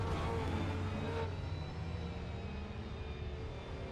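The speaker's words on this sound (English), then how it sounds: "You can hear the sound of that engine." An Aston Martin V12 race car engine drones at a steady, sustained pitch on the Nordschleife, loud and continuous with a slight shift in tone partway through, and no voices over it.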